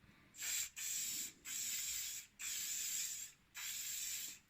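An aerosol can sprays in five sharp hissing bursts of about a second each, separated by short pauses, close and clear with no talking.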